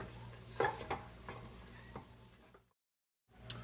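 A spoon scrapes and stirs dark brown roux for chicken and sausage gumbo in a hot pot, with a low steady sizzle and several distinct scraping strokes, then a brief silence before the stirring returns.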